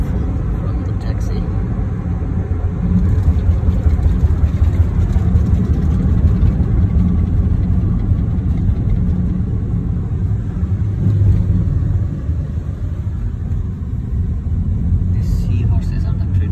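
Taxi driving through Miri city, heard from inside the cabin as a steady low engine rumble and road noise that hold even for the whole stretch, with a voice talking over it.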